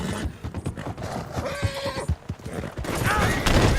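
A horse in the video game Red Dead Redemption, with rapid clip-clopping hooves and a loud neigh over the gallop, mixed with bursts of gunfire and game action.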